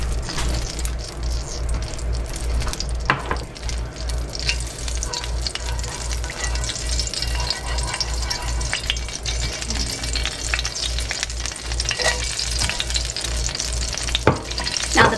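Flour frying in a pan for a roux, a steady loud sizzle with scraping and clicking of a utensil stirring throughout, close and continuous.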